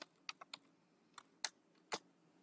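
Sparse, irregular keystrokes on a computer keyboard while entering code syntax, about six crisp clicks spread over a couple of seconds with a louder double-tap near the end, heard close and alone in a quiet room.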